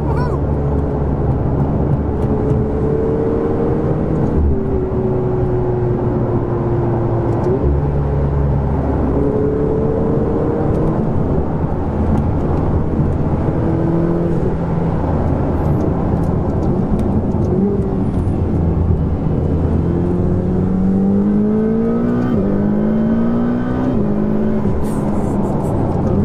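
Ferrari 488 supercar accelerating hard, a loud continuous engine drone climbing through repeated gear pulls, heard from inside the car over steady road and wind roar.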